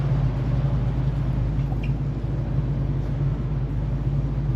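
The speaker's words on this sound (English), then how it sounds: "Now you can hear other cars outside these garage doors" Car engines idle and run just beyond closed garage doors at a classic car dealership, a steady low rumble that stays even and muffled throughout, with no voices.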